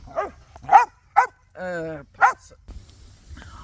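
Several of five household dogs bark in a few sharp bursts, joined midway by a drawn-out whine, fairly close and loud over a low background hum.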